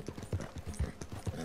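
Horse riding in the video game Red Dead Redemption 2, rhythmic clip-clop hoofbeats at a steady gait, close and clear, with a faint voice talking underneath.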